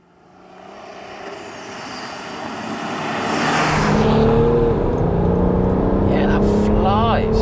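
A tuned Stage 2+ 400 bhp BMW E91 335d diesel estate accelerates hard, its engine note swelling from a low rumble to a loud, rising roar heard from inside the car, with a voice speaking partway through.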